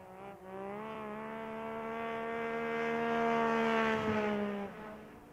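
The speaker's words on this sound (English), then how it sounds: "The old Yamaha down into the corner, a different sound to that sled as he works it down into turn number 1 and 2" Old Yamaha racing snowmobile engine at a world championship snowmobile derby, a high tonal whine that swells and holds as the sled works down into a corner, then drops away, heard at a distance with no talk.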